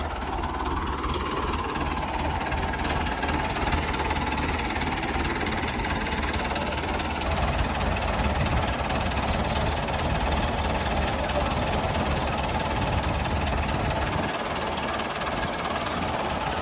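A Ford 4000 tractor pulling a loaded trolley, its diesel engine chugging in a steady, loud, continuous drone with a knocking low rumble that never lets up, heard outdoors with no clear talk over it.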